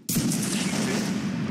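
A line of soldiers fires a musket volley in Mount and Blade Napoleonic Wars, a sudden loud booming burst of overlapping shots that rolls on as a sustained rumble.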